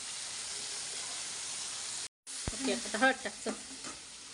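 Chillies dropped into hot oil in a frying pan while cooking okra bhaji, a steady close sizzle that breaks off briefly, then resumes with bursts of crackling spatter.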